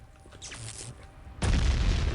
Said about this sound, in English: Why are you exploding at me?